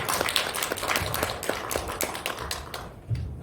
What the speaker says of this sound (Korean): 저희 조광배 선생님 저희 박수로 맞이하도록 하겠습니다